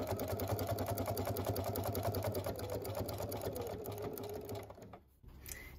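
A sewing machine running steadily at close range, top stitching all the way around a fabric bowl cozy, with a fast even needle rhythm that stops abruptly near the end.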